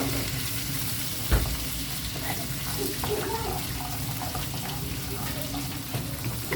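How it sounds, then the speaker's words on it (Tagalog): Garlic sizzling steadily in a hot pan for chicken, a continuous frying hiss with a sharp knock early on, plus a faint voice in the background. "Igisa tayo ng bawang."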